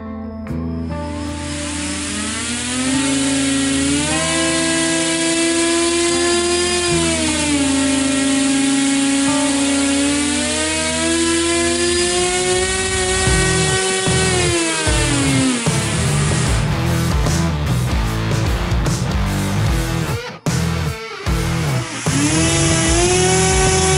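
A brushless motor running on 12 volts spins a propeller, giving a loud, continuous whine whose pitch climbs and wavers with speed changes, dipping briefly near the end before rising again, with no voices.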